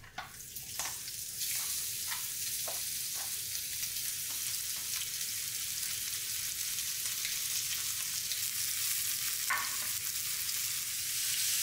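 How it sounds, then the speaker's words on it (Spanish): Pork ribs and butifarra sausage browning in oil in a pot, a loud steady frying hiss with scattered utensil clicks near the start, no talking. "Doramos las costillas y la butifarra."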